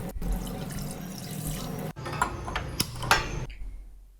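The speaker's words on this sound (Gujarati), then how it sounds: "ચોખાને ચોખા પાણીમાં ધોઈ નાખીશું" Water splashing and sloshing close by, with scattered drips and light clinks as grains are rinsed and stirred in a bowl.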